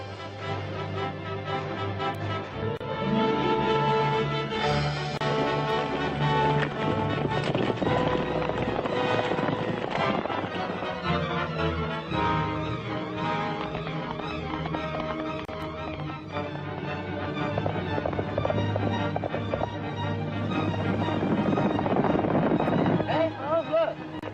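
Horses gallop in a 1937 Gene Autry western, their hoofbeats mixed in with a loud, busy orchestral score that plays throughout.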